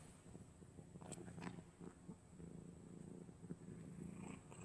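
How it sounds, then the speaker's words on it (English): A cat purring close by, a faint, steady rhythmic rumble with a few soft clicks and rustles, with no voices. "Don't think so, except for purring. I love that purr."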